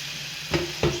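Ground paste dropped into hot oil with popped mustard seeds and curry leaves for an egg gravy, giving two short sharp sizzles close by over a quiet background hiss.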